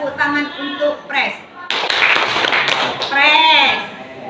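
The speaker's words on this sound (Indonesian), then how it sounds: "Tepuk tangan untuk press." Children in a classroom clap their hands together in a short, dense burst, with young voices chanting and talking just before and after.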